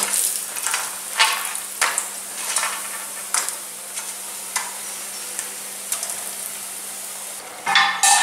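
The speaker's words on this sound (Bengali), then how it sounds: "এবার এই গরম তেলে আমি বড়িগুলো দিয়ে ভেজে নেব" Lentil bori frying in hot mustard oil in a kadai after a fish head, heard as a close sizzling hiss with repeated crackling bursts and faint stirring clicks, ending in a sharper surge of spatter.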